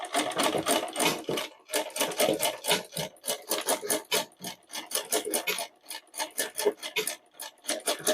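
Foot-pedal sewing machine stitching cloth, its needle clattering in rapid bursts of rhythmic chatter that stop and start in short runs, close and fairly loud with no talk over it.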